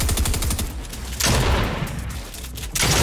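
A shotgun fires in the Fortnite video game, with several loud sharp blasts in quick succession and a dense burst of gunfire near the end.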